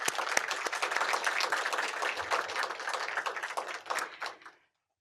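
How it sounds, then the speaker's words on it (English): Families and guests at a sheriff's corrections academy graduation receive a round of applause, a lively burst of many hands clapping that stays steady before stopping abruptly. "please give them a round of applause"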